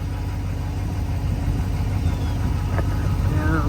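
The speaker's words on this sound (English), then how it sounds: "Some of it still will run through the mufflers, and I'll rev it and kind of show that." A RAM 1500 Laramie GT with a valved exhaust dump placed just before the muffler idles with a deep, steady rumble, loud and close, with no distinct rev peak.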